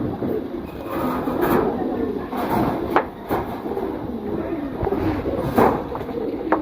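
Pigeons kept for sale in a collection, giving soft low cooing and wing flutters that pulse in waves close by, with a rumbling background and occasional sharp knocks.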